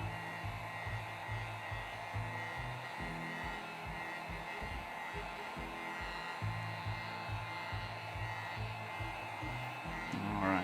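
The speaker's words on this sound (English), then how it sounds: "So we used the heat gun" A heat gun blows hot air over an acrylic paint pour, a faint steady electric whir with a low pulsing hum, running alone throughout without voices.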